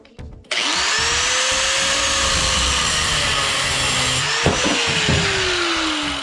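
A power tool cuts through a steel motorcycle grab rail on a CB450 build, a steady loud whining grind starting after a short clatter, pitch dipping as the cut loads, with a few clanks near the end.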